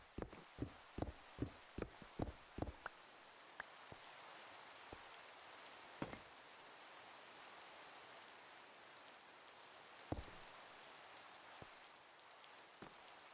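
Minecraft rain falling steadily, a soft continuous patter and hiss with a quick run of sharper drop-like taps at the start and scattered louder hits later on.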